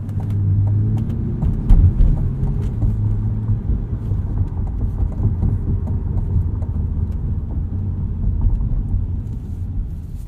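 Interior cabin sound of a 2020 Chevrolet Corvette Stingray mid-engine sports car on the move: a steady low engine and road rumble, fairly even in level, with no talk over it.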